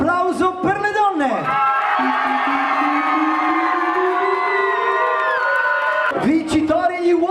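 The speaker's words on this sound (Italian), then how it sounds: "Applauso per le donne!" Wedding guests cheer loudly for the women at the reception, a massed whooping and shouting swell that stays at full volume throughout, with short yells at the start and finish.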